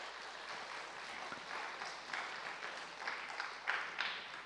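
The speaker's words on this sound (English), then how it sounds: "Round of applause for our panelists," Soft audience applause for panelists at a panel discussion in Mt. Abu, a faint, distant patter of many hands clapping steadily throughout.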